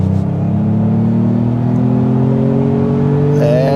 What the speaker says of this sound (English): it does have a nice exhaust note